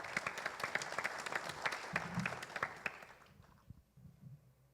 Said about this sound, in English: Let's clap it up for her, y'all.